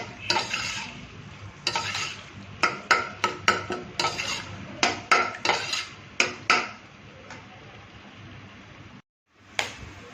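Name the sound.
browning onions in masala in a pan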